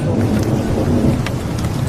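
Heavy rain pours steadily with a deep thunder rumble rolling underneath, dense and loud throughout as part of a storm effect in a children's story.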